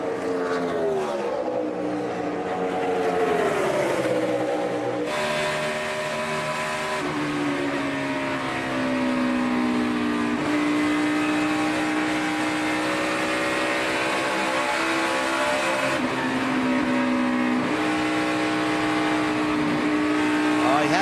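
NASCAR stock cars race at the Indianapolis Brickyard, engines roaring in a steady, loud drone with rising and falling pitch as cars pass, under continuous commentator talk.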